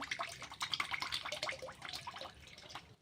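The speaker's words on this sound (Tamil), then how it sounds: "அதுக்கு வந்து தேவையான அளவுக்கு எண்ணெய் பொறிக்கிற அளவுக்கு நம்ம வந்து எண்ணெய் வந்து விட்டுக்கலாம்" Cooking oil poured into a frying pan for deep-frying sweet maida biscuits, a light liquid trickle with scattered drip-like splashes, fairly quiet and close, with no speech.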